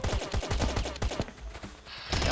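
Video game gunfire with a rapid string of close, punchy shots in a steady rhythm, then a short lull and a final loud burst.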